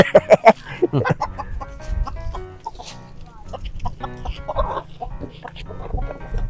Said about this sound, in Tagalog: Ano yung panabong na manok?